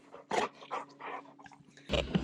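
Dogs being let out in the morning give close, soft panting and whimpering in short bursts, with a sharper yip near the end.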